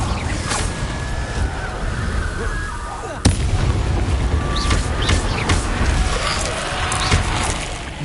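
A fiery Incendio spell blast from the video game Hogwarts Legacy bursts suddenly partway through, loud over a dense, rumbling battle din of other spell impacts, with no speech.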